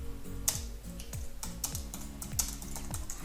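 Typing on a computer keyboard during a software demo, a steady run of close, crisp key clicks with heavier thumps of larger keys in an uneven rhythm.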